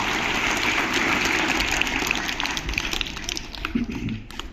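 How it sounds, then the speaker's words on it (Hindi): Students in a school gathering clap together, a loud, dense wash of applause that runs steadily and then thins out toward the end, with some voices mixed in. "यहाँ के अच्छे, एक बार ताली बजाओ पीछे से।"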